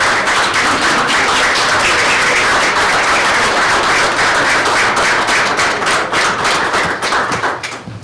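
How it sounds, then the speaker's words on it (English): An audience at a county school board meeting stands and applauds, loud sustained clapping from many people that holds for several seconds before thinning out at the end. "please stand and give them a gigantic round of applause"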